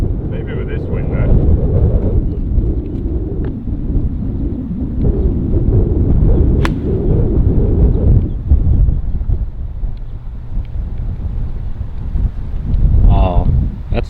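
Wind buffets a microphone outdoors on a golf course, a steady low rumble with gusts running throughout the clip, with voices faintly under it.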